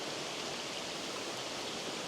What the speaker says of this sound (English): Check out this little waterfall.